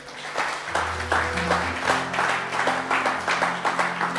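A church congregation applauding, a short burst of dense clapping rising quickly and holding steady for a few seconds, with musical tones sounding underneath.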